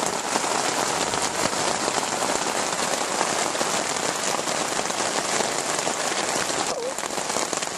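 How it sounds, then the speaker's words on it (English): Steady heavy rain drumming on a dry camping tent at a rustic survival campsite on a Thursday morning, a dense, loud, unbroken hiss with no voices. "The rain should do the fishing some good, because when it rains like this, it really stirs the fish up"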